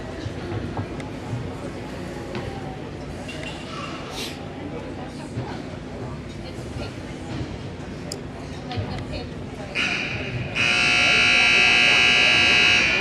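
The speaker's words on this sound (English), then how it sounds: "Buzzer singles the end of the timeout." A loud, sustained electronic buzzer ends a timeout at an ice hockey game, Rams versus Whalers, blaring steadily over the closing seconds after a stretch of crowd and arena chatter.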